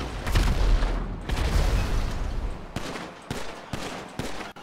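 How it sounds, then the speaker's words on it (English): Pistol gunfire in the video game GTA 5, heard as rapid bursts of booming shots close up, first in dense clusters, then as separate sharp cracks with short gaps between them. "Mario's shooting at him with a pistol"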